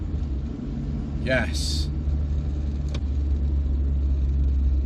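A 1989 Volvo 240 2.0 GL estate with its red block engine drives slowly, a steady low rumble of engine and road noise running throughout beneath a man's speech.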